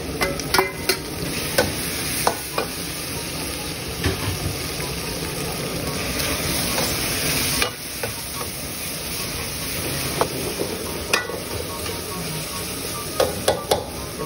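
Liver stir-fried in a hot pan for batchoy, a constant crackling sizzle with occasional clinks and scrapes of a utensil against the pan.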